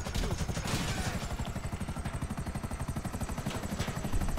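Helicopter in the video game GTA 5, its rotor thumping in a fast, steady chop close by with a bright whine above and clattery noise laid over it.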